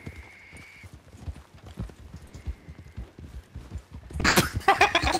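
Horse hooves clip-clop in Red Dead Redemption 2, a quick, uneven run of close thuds, ending in a louder burst of rustling noise.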